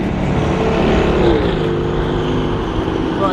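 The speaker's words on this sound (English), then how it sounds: "Bro, I've never heard a car rev like that." A Nissan R35 GTR engine roars loudly and continuously close by, a dense sustained revving drone that barely dips throughout, with no clear gaps between revs.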